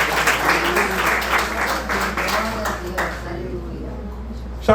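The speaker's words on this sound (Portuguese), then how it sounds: "Aplauda o Senhor com o seu melhor." A church congregation at a Nova Vida service claps together in steady, dense applause that fills the room, thinning out toward the end with a voice faintly audible underneath.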